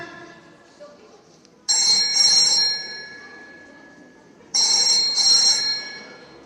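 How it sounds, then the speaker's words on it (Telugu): A mobile phone rings twice, each burst of bright electronic ringing lasting about two seconds with a pause between, left unanswered over a faint background murmur. "రింగ్ అవుతాను కానీ ఎత్తడం లేదు బ్రో"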